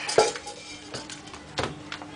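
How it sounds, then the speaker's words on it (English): Metal clinks and light knocks as a Bialetti aluminium stovetop coffee maker is handled in a home kitchen, a few scattered taps over quiet room tone. "It's a real bialetti coffee maker, a stovetop coffee maker."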